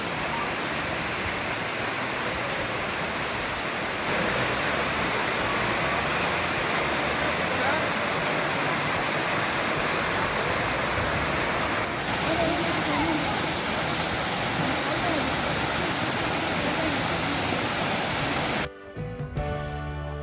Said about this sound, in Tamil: இந்த அருவியில் சில நாட்கள் நீர் அதிகமாகவும் சில நாட்கள் நீர் குறைவாகவும் இருக்கும்